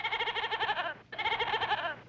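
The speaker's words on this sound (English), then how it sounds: "Joe, get that goat out of here." A goat bleats twice in close succession, each call a wavering, quavering cry lasting about a second, loud and near with a brief pause between them.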